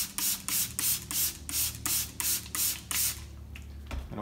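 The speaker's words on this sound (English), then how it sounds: "I like to use the mister, mist it" A hand spray mister sends quick bursts of water over potting soil packed into a bag for a real-grass Easter basket, about eight even hissing puffs in steady rhythm, close and alone.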